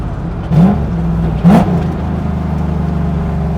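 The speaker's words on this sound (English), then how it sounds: "Supercharger sounds good." A supercharged drift truck engine, leaking from the header, idles with a steady rumble, then revs up sharply twice in quick bursts before settling back to a rough, throbbing idle.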